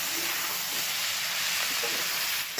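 Spices sizzle in a pan with vegetables and dried fish, a steady loud frying hiss that continues unbroken.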